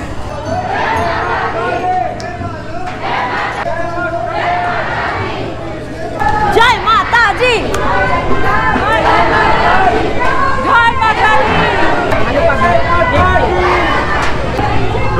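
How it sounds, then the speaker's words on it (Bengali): Dense crowd chattering in a long, packed queue at Chandi Devi temple in Haridwar, a steady wash of overlapping voices that swells slightly louder midway and stays close and continuous. "ভিড়, বড় লাইন"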